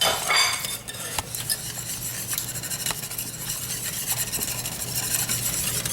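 Salad dressing ingredients are whisked in a pot, giving a close, continuous metallic scraping and rattling with quick strokes against the sides, steady and moderately loud, with no one talking.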